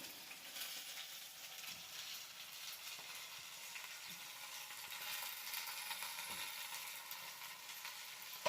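Food frying in a pan gives a quiet, steady sizzle with faint stirring scrapes and no talk.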